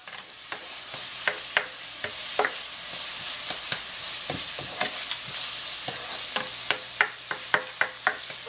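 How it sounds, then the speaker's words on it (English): Food sautéing in a pan for Fra Diavolo, a steady sizzle under repeated scraping and clacking strokes of a utensil stirring, close and fairly loud. "So we're going to saute these up."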